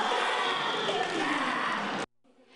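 Spectators fill the stands at a national ssireum wrestling tournament during middle school bouts, raising a dense, loud roar of cheering that cuts off abruptly.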